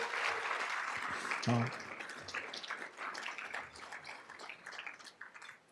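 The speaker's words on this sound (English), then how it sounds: "if we can give another round of applause to those students who have received the MLK Endowed Scholarship" An audience at a community unity dinner for MLK Day gives a round of applause for scholarship students, a dense wash of clapping that slowly thins and mixes with murmuring voices.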